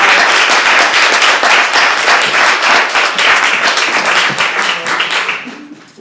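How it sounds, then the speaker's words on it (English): Audience applause at an evening performance event as a performer walks up, steady dense clapping that holds for several seconds and then fades. "So you got like applause for a long time."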